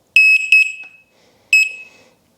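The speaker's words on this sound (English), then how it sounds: "The beeper is here. It's very loud, right?" Loud electronic beeper of a disassembled electric unicycle (Sherman/EX type) sounding in sharp high-pitched bursts: two quick beep clusters, a pause, then another burst, alone with no talk.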